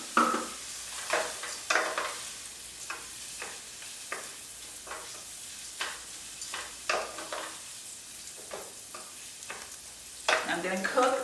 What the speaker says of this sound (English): To our onion mixture, I'm going to go ahead and put in 3/4 of a cup of, I'm using parboiled white rice.